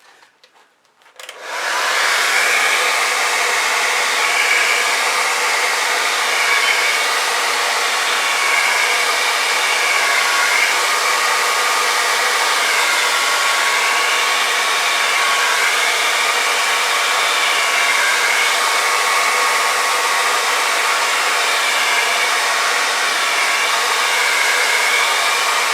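A hair dryer fitted with a directional nozzle, used to blow fluid acrylic paint across a pour, switches on and then roars steadily, loud and close, without pause or speech.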